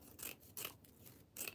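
Scissors snipping the end of a sinamay bias strip, three or four short crisp rasping cuts close by and fairly quiet, with brief pauses between them.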